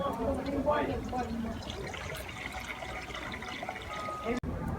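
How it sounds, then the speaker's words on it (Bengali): Water poured into a wok on a stove, a brief splashing trickle early on that fades into quieter running liquid, heard close under a voice that talks throughout. "কড়ার মধ্যে নর্মাল জল কিছুটা দিয়ে দেবো"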